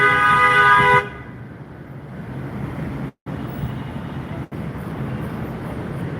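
A long, steady car horn blares loudly for about a second on a street in Santo Domingo, then busy traffic rumbles on with brief gaps.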